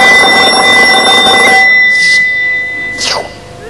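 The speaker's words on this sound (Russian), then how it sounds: "Кто-то звонит." A bell-like ring sounds loudly and steadily for about a second and a half as a phone rings, then stops, leaving a couple of brief sharp chirps before the clip ends.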